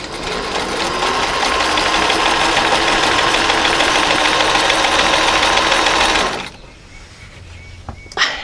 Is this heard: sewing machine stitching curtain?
yes